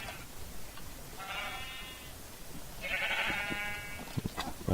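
Two drawn-out sheep bleats from a video game, the second louder, over a low steady background with a few soft clicks.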